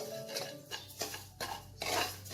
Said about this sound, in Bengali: ডালিয়াটাকেও হালকা আমি ফ্রাই করে নেব